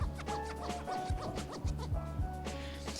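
Fingers rub and scratch across the ridged back of an HTC U12 Life phone in quick, faint, rasping strokes.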